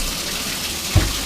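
Water gushes from a bathtub tap in a steady broadband hiss, with a brief louder splash or thump near the end.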